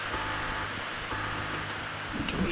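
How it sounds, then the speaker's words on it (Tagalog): Rain falls steadily during a storm, a dense even hiss of drops on surfaces, close and constant for the whole stretch with no voices over it. "Hindi yun hangin. Ulan yun."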